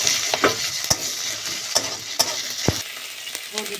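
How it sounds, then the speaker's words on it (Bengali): Chopped onion sizzling in hot oil with ginger-garlic paste for a fish and potato curry, a steady close fry hiss broken by sharp scrapes and clinks of a stirring spoon against the pan, no voices. "পেঁয়াজটা ভাজা ভাজা হয়ে গেছে। আদা রসুন বাটা দিয়ে দেবো।"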